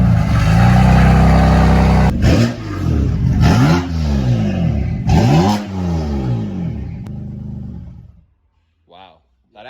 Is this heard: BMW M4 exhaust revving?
yes